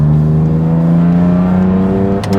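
A BMW engine holds a loud, steady, close drone with strong low harmonics, broken by a short sharp click near the end.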